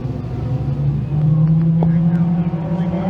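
Race cars at a thundercar heat race drone steadily at a distance, a continuous engine hum that rises slightly in pitch, with a brief sharper accent partway through.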